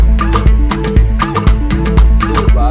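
A weird SQ Tomato synth patch from Serum plays inside a dense beat, with loud thumping kicks and bright percussive hits on a steady groove and sustained synth tones layered throughout.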